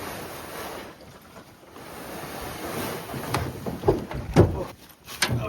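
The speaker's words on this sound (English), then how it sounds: "It's pretty windy" Strong late-fall wind gusts across an island campsite, a continuous roaring rush with rising buffets and sharp knocks near the end.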